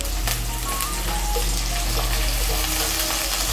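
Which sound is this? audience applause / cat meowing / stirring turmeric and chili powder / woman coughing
stirring turmeric and chili powder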